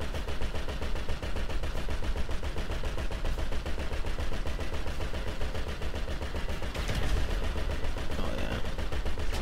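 Dense, continuous gunfire in GTA 5 Online during an island battle, a steady loud clatter that runs throughout with no breaks.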